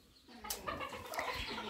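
Bantam chickens clucking in a barn shed at Yaremche, a few soft clucks and calls at close range over a quiet background.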